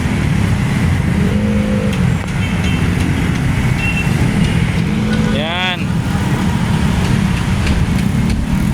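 Busy road traffic of cars and trucks in Metro Manila, a constant near engine rumble and tire roar with a brief horn or beep sweep partway through, while someone talks over it.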